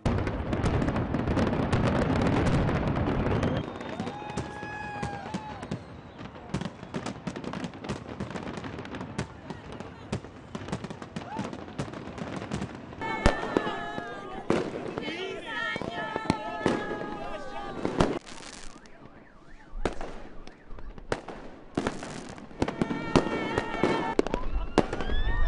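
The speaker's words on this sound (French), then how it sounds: "Des feux, des pétards, beaucoup de bruit et beaucoup de festivités." New Year's fireworks and firecrackers go off in a city celebration for 2012, a dense crackling barrage of sharp pops and bangs that thins out and then returns, with whistling rockets and crowd noise in the background.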